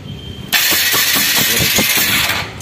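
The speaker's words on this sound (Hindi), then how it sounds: "अब गाड़ी भी स्टार्ट होगी। सेल्फ दबाओ छोटू," A TVS Apache BS6 motorcycle with its valve timing out and a bent valve cranks on its electric starter after a short quiet lead-in. The starter chugs in close, loud, rapid rhythmic pulses that carry through to the end.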